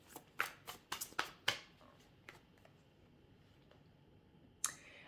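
Tarot cards shuffled and drawn close to the microphone: a quick run of about seven crisp riffling slaps and snaps in the first second and a half, a quiet pause, then one more flick of a card near the end.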